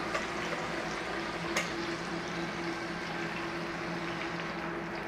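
Sausages for toad-in-the-hole sizzling in a hot tin as batter is poured over them, a steady moderate frying hiss with a faint liquid pour and a couple of light clinks.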